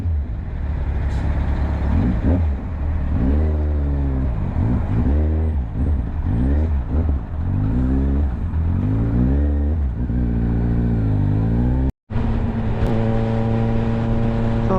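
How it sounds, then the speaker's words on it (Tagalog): Heavy road traffic near a long bridge in Pampanga, with cars, trucks and motorcycles including a Honda CBR500R and a Kawasaki Ninja 1000, rumbling steadily close by as engines rev and shift, with a brief dropout near the end. "Traffic."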